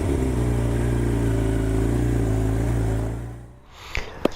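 A Suzuki Hayabusa fitted with a Yoshimura pipe holds a steady, loud engine drone on a test ride, then the engine note drops away, followed by a couple of sharp knocks at the end.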